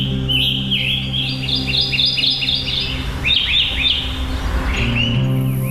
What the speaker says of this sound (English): it really means birdsong